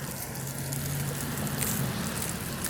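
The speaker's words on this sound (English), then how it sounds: "it's turning to rain now" Rain falls outside a window in Ottawa, a steady diffuse patter and hiss heard from indoors, fairly close and continuous with no one talking.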